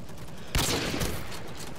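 Gunfire in Call of Duty Online: a sudden loud volley of shots that fades into a sustained noisy crackle.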